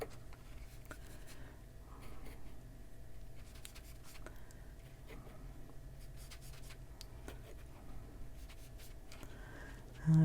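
Colored pencil scribbling on a scrap of paper during adult coloring, a steady scratchy patter of strokes running throughout at close range over a low background hum, with no talking.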